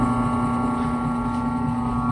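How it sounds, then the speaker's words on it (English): A Bauer 8-inch 1/3 HP bench drill press motor runs with a steady hum, a strong constant tone and a faint vibrating buzz, running evenly throughout with no voices. "Here's the sound of the motor."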